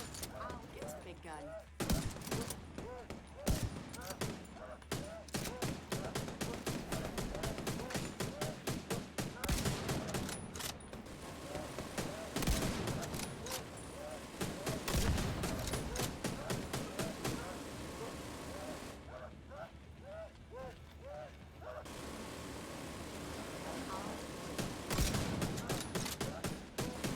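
A heavy gun blasts repeatedly in a video game, a dense run of loud, fast shots broken by short lulls, with a rumbling vehicle-like drone beneath and voices chatting over it.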